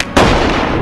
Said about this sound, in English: Flare gun.